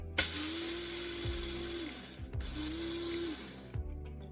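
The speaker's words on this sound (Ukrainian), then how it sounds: "Далі беру 40 грам льону і змелюю його в муку в будь-якому подрібнювачі" Electric grinder whirring loudly as it mills 40 grams of flax seed into flour, two sustained motor runs that rise and cut off with a brief pause between, alone with no talk.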